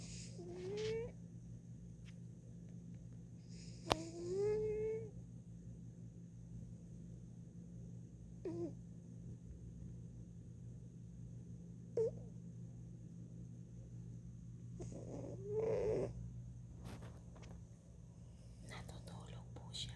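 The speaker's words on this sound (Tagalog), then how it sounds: "Ang aking pusa natutulog po at humihilik." A fat cat sleeps and snores softly indoors, with breathy, quiet snores over a steady low hum and a few faint chirping sounds.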